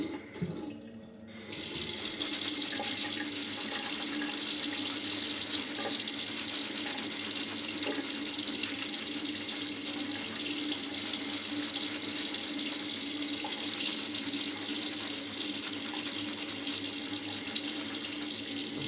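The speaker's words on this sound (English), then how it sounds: "A little bit more water. I'm just going to leave this running." A tap runs steadily into a sink for the whole stretch, a close, even hiss of falling water after a short quiet start.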